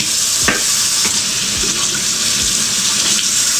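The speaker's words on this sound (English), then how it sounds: "Potato is cut. Let me rinse it off." Tap water runs steadily over freshly cut potato in a kitchen sink, a continuous broad hiss with a few faint clinks and scrapes from handling, no talking.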